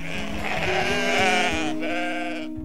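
Sheep bleat in a steady, sustained chorus close by near a herder in the countryside outside Montelepre, Sicily, with no talk, the calls overlapping loudly before fading at the end.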